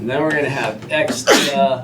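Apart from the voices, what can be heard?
sneeze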